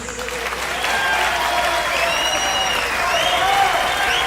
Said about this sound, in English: Let's give a round of applause for Johnny Fox.